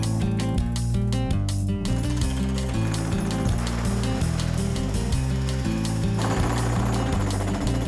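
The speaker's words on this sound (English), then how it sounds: "Joined to a pair of dueling jackhammers, Peter and Leon unleash some cosmic energy onto the concrete step." Two jackhammers pound a concrete step during a house renovation, a loud continuous rattling barrage that runs the whole time with overlapping rhythmic hammering.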